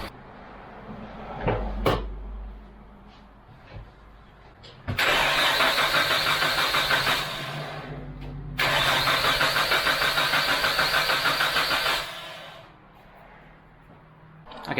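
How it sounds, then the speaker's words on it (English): A Nissan Stagea's RB25DET engine cranks with its fuel pump unplugged, two long bursts of starter churning each catching into a rough, sputtering run before stalling, close and loud after some quiet handling noises. "hopefully the car won't start, it should sputter and stall"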